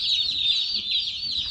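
Cornish Cross meat chicks cheep in a continuous, high, busy chorus of overlapping peeps, close by and with no voices.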